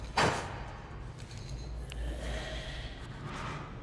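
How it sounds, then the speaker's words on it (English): In the horror game Bendy and the Dark Revival, a sharp breathy snort-like exhale opens, followed by faint, low, unsettling breathing and ambient rumble that lingers quietly. "I really don't like the slight breathing noises"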